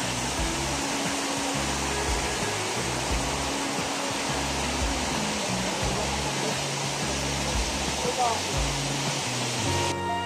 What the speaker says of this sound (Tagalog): And this is one of the most beautiful cascading waterfalls I have seen so far.